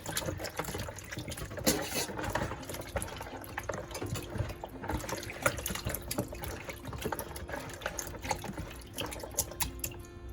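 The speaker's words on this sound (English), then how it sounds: "So we're going to use some vinegar and we're going to rinse it" Raw mutton being rinsed with vinegar and water for Jamaican curry mutton, splashing and running water with sloshing, dripping and handling sounds at close range, no talking.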